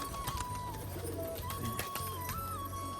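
Feather-footed pigeons coo repeatedly in a low, throaty rhythm close by, with a faint higher tone and light scuffing behind them.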